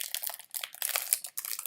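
Crinkling and crumpling of plastic packaging in quick bursts, close up, with short pauses between handfuls.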